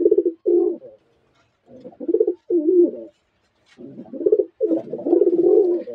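Heavy-breed loft pigeons coo in low, soft, throaty bursts, several calls in a row with short pauses between them, close by and without any talking.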